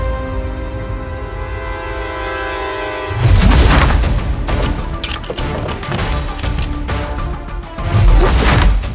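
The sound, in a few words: gunshots fired in a drama scene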